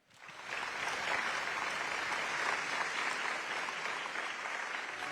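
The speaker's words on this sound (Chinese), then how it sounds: "掌声有请他们。" An awards ceremony audience at a film gala breaks into steady, sustained applause, a dense wash of clapping that swells quickly and holds at an even level.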